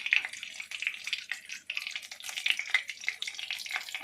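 Curry leaves and turmeric frying in oil for an onion-free, garlic-free potato dum, giving a soft, fluttering crackle with light stirring that rises and falls throughout.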